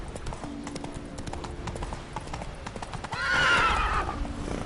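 Roach, a horse in The Witcher 3, gallops with rapid rhythmic hoofbeats and then lets out a loud, drawn-out neigh near the end, close and clear with no speech.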